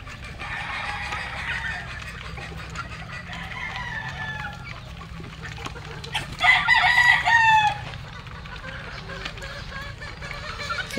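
Chickens and roosters on a small backyard poultry farm with young pullets in a range area cluck steadily nearby, with a rooster crowing loudly partway through over a low background murmur.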